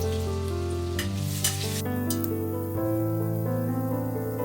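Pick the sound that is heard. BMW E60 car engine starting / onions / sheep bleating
onions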